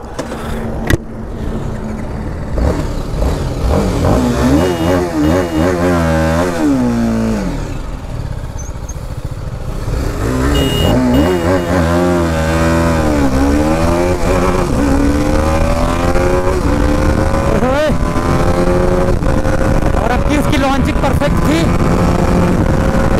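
A BMW G 310 RR and a KTM RC 390 BS6 2020 model run a drag race, engines revving hard with rising and falling pitch sweeps as they shift through gears, loud and close throughout.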